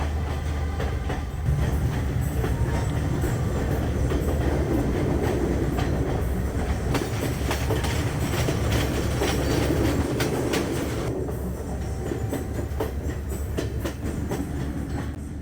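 Train at Kandy station in Sri Lanka, heard from the platform: a continuous loud rumble of rolling carriages with rhythmic clickety-clack from the wheels and a steady low drone throughout, with no voices.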